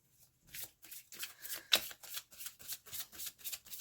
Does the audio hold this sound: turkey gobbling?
no